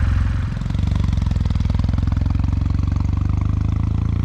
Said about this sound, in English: So now that I've introduced the Meguro K3, let's take it for a ride.